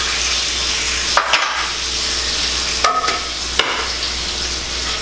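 An egg frying in a pan over a very low fire, with a steady broadband sizzle throughout and a few sharp knocks and clatters of shell or utensil against the pan.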